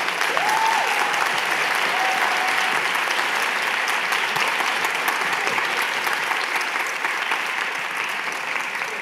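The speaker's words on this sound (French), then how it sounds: "Donc vous pouvez applaudir Monsieur Fabrice Drouel." A large crowd claps steadily and enthusiastically for several seconds, dense and sustained applause filling the room.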